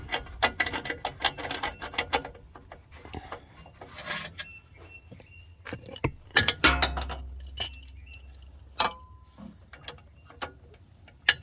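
An O2 sensor socket on a short extension is fitted onto a sensor on a 2003 Mercedes E320. Close, irregular metallic clinks and rattles sound alone, with sharper taps scattered throughout.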